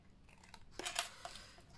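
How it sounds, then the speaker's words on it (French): A few quick scissor snips cutting along a folded crease of a paper box lid, faint and close in a quiet room. "je vais couper le pli le moins bien marqué"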